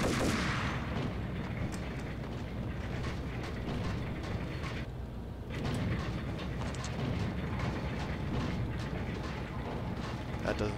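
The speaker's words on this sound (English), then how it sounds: "There are still murderous gunshots." Gunfire in the video game Max Payne: a dense, continuous barrage of loud shots and booming blasts with barely a pause, dipping briefly midway before resuming at full intensity.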